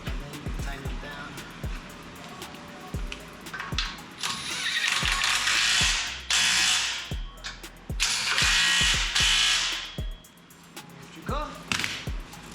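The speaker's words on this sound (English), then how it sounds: "line up the bolts in the center. And then tighten it down." Bolts being tightened on a rear tube bumper during a Toyota 4Runner install, with loud repeated ratcheting and power-tool bursts close by, separated by clanks and short pauses.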